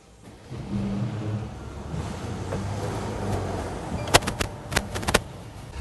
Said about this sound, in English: Well, let's go for a ride of the new Mercedes-Benz Hybrid.